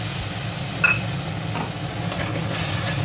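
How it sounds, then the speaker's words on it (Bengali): Chopped tomato sautéing with spices in oil for an egg bhapa curry, a steady close sizzle with a few spoon scrapes and one sharp clink against the pan. "এই টমেটোটাকে ভালোভাবে মশলার সাথে কষে নিতে হবে তেলটা ছাড়া পর্যন্ত"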